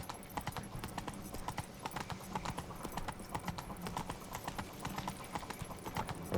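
Horse hooves clip-clop at a steady trot in The Witcher 3 at night, a rapid even pattern of close hoof strikes running throughout over a soft game ambience.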